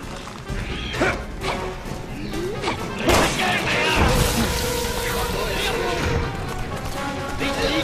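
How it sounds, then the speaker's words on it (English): Remote grenade detonating in Resident Evil 6, a sharp crash and boom around three seconds in amid chaotic game noise and clatter, with someone talking over it. "I try to be clever and uh, put down a remote grenade"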